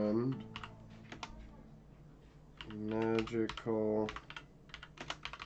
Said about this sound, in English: Typing with one hand is tough.